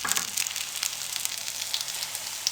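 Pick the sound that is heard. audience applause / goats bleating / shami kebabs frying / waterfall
shami kebabs frying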